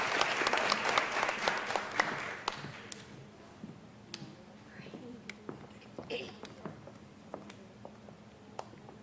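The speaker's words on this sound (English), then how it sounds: "Give them a wonderful round of applause." Audience applause for Little Miss Czhilispiel pageant contestants, a broad wash of clapping that is fullest in the first couple of seconds, then thins into scattered claps and taps for the rest.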